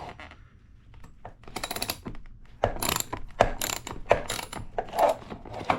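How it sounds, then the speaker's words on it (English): A half-inch socket ratchet loosening a bicycle seat bolt gives quick bursts of sharp pawl clicking in several separate runs, close up and fairly quiet, with no talk. "So we got a 1/2 inch socket and ratchet."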